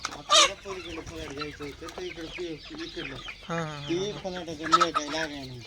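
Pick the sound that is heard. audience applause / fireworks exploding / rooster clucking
rooster clucking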